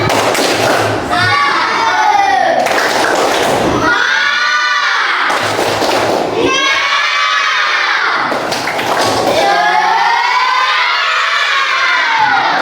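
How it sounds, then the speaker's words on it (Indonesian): A university event audience performs a rhythmic spirit clap, loud thumping claps in repeated bursts mixed with crowd shouting and cheers, with short pauses between phrases. "Tepuk semangat."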